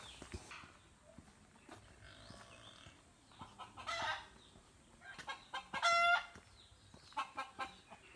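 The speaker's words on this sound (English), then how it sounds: "There's a lot of chickens" Several chickens cluck intermittently at a moderate distance in Amed, Bali, with a few sharper squawks and bursts standing out from a quiet outdoor background.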